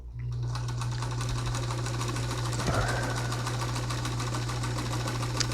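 A vintage Lenco sewing machine runs steadily through a straight stitch, a loud continuous mechanical whir with a fast even rhythm, heard alone without talk.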